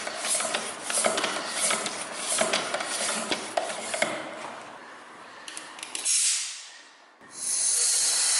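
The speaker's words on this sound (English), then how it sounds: "So we'll pump it up to 40 psi and leave it overnight." A mountain bike tyre fitted with a Maxxis DHF, pumped up to 40 psi, with repeated airy hissing strokes from the pump, followed by a short rushing burst and then a steady, louder hiss of escaping air.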